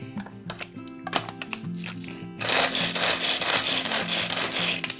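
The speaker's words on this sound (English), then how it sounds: "now I'm gonna dice them in my really handy food processor" A food processor dices orange bell pepper in an RV kitchen. Light clicks and tapping come first, then a loud, steady chopping whir takes over for the second half, close up.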